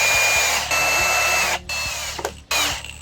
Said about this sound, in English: Then fasten the screws into the pilot holes that we just made.